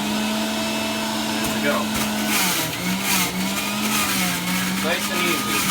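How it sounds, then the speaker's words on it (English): Electric juicer motor juicing carrots, revving up to high speed with a steady whine that wavers under load, close and loud, with a person speaking briefly over it. "So, I'm going to juice the remaining carrots. Again, push down for high. Wait for it to rev up."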